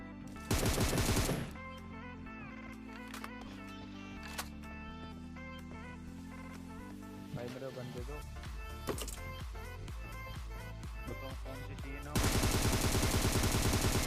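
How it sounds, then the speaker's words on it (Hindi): Gunfire crackles in a battle royale video game, with loud bursts of automatic fire at the start and end and scattered shots in between, along with other game sounds. "पीछे की तरफ काफी देर से फायरिंग चल रही है"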